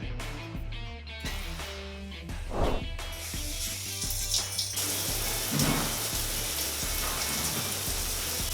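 Water sprays and splashes from a newly installed bathroom showerhead with an even hiss, broken early by a few knocks and clunks before a steady full stream settles in. No one speaks.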